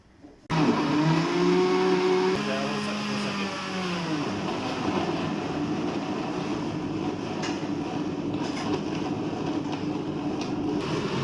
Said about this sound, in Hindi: इसको अच्छी तरह ग्राइंड कर रहे हैं।